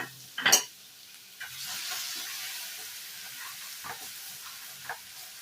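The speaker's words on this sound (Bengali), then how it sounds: "সব মশলাগুলোকে কিন্তু একসঙ্গে আমি কষিয়ে নেব।" Cumin and coriander powders with grated ginger frying in a pan for a vegetarian kofta curry, a sharp sizzle burst as spices hit the hot oil, then a softer steady hiss with occasional stirring scrapes.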